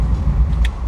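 A Shelby car with a FiTech dual quad setup pulls away under throttle, a loud, close engine roar that rises briefly, with a faint high squeak near the end.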